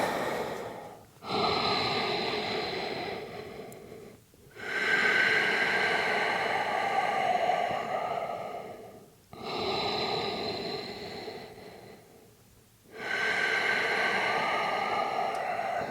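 Slow, deep breaths in yoga child's pose, four long airy inhale-exhale cycles close to the microphone, separated by brief pauses, with no talking.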